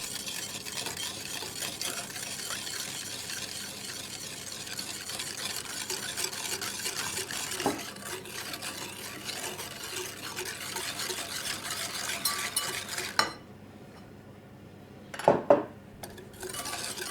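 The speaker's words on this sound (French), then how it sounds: "je vais donc mélanger 20 g de sucre avec mes œufs" A utensil stirring 20 g of sugar into eggs in a bowl for gluten-free, lactose-free butter cream, a steady scraping swish lasting about thirteen seconds, followed by a pause and a couple of sharp clinks against the dish.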